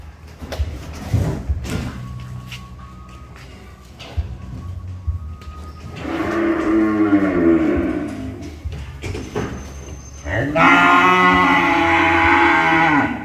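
Cattle moo loudly on a farm, with several long, drawn-out lowing calls, the last two close and strong. Thumps and knocks sound between them.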